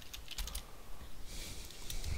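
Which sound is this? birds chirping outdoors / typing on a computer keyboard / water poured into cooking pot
typing on a computer keyboard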